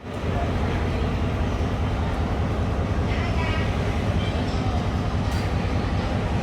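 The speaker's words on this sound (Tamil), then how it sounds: "இந்த ட்ரெயினில் தான் போக போகிறோம்." A train on the Badulla to Colombo route in Sri Lanka rumbles steadily and loudly throughout, a dense continuous roar of wheels and carriages with faint voices beneath it.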